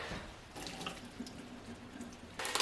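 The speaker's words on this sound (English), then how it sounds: "we're going to drain the macaroni" Cooked macaroni water pours from a pot into a kitchen sink as pasta is drained, a steady close splashing rush that swells louder near the end, with no talking.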